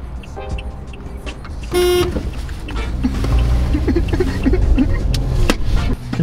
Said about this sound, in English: I'm gonna honk at this bitch as soon as the light turns green.